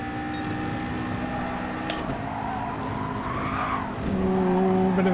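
A race car in Gran Turismo Sport drifts through a four-wheel slide, its tyres squealing in a rising and falling whine over a loud, steady engine drone.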